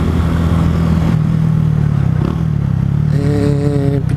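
Yamaha Fazer 250 motorcycle fitted with an aftermarket exhaust and iridium spark plug, its engine running steadily and loud throughout, with a low rumbling drone and a brief rise in pitch near the end.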